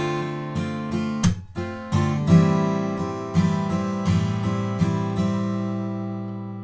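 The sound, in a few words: guitar strumming with percussive palm mute slap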